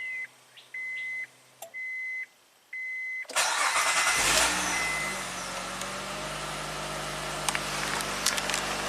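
An Acura's engine cranks and fires up after a series of short, regular electronic beeps from the car, then settles into a steady, close idle hum.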